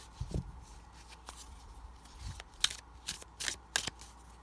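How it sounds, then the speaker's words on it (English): Tarot cards are shuffled by hand in quick riffling bursts, a few crisp flutters and snaps close up in a quiet room, with no voices. "One more shuffle, and we're going to cut and go from there."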